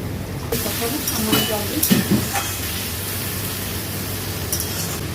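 Ground cumin-coriander, ginger and green chilli pastes go into a hot pan and crackle and sizzle loudly, with a few sharp spattering bursts early on before the sound settles into a steady hiss.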